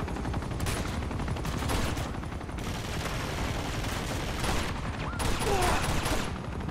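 Dense, continuous automatic gunfire aimed at a helicopter in Uncharted 2, a loud rattling stream of shots over a steady roar, with a voice talking now and then.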